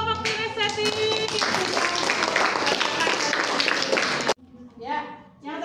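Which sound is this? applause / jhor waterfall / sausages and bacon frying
applause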